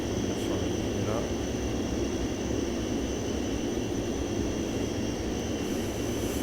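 Steady broadband drone and whine of Fairchild FH227 airplane engines in the flight simulator MSFS2020, heard from outside, a constant roar throughout.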